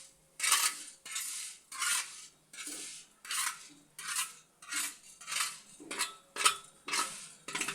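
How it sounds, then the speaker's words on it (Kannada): A ladle stirs roasting sesame seeds in a pan, making about a dozen rhythmic scraping, rattling sweeps roughly every half second, close and moderately loud, with metallic clinks. "ಅಲ್ಲಿ ಒಂದು ಸೌಟ್ ತೊಗೊಂಡು ಕೈ ಆಡಿಸ್ತಾನೆ ಇರಬೇಕು ರೀ."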